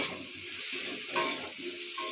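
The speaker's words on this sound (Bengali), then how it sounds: "কেটে রাখা বেগুনগুলোকে দিয়ে আমি এইভাবে এরকম নাড়াচাড়া করব" Cut eggplant with turmeric and salt frying softly in a pan, with a low sizzle and a few scraping stirs, one sharper scrape partway through.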